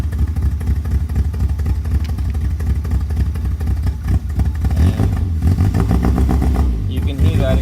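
A 1969 Austin Healey Sprite engine idles with a rough, rumbling burble close by, steady throughout, with a slight rise in revs near the end.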